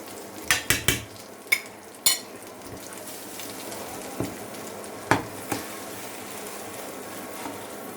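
Omelette cooking gently in a pan, a soft low sizzle beneath a few sharp clinks of a spoon against the pan early on and scattered lighter taps later, close and fairly quiet.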